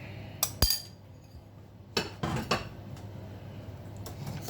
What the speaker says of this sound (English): Let's mix that in very well.